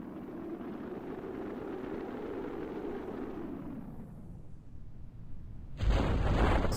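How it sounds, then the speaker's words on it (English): In Kerbal Space Program, a rocket engine's boom arrives from far off as a low, rumbling roar that swells and then fades, followed by a sudden louder burst of broadband noise near the end. "Little boom in the distance."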